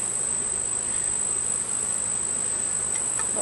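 A close, continuous insect drone fills a beehive inspection, steady and even throughout, with a thin high whine sitting over the buzz.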